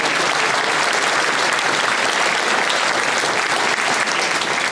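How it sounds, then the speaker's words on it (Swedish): Loud, dense applause fills the hall at the 2015 Föreningsgala awards gala in Borås, a steady wash of many hands clapping close by without letting up. "Sista applåden är alltid störst."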